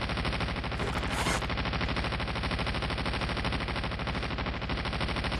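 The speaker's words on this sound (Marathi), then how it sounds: "बघा भैया फायरिंग करत नाही तरी फायरिंगचा आवाज येतो." Rapid, continuous gunfire rattles through a battle royale game match, dense automatic bursts running nonstop and loud for several seconds with no talking.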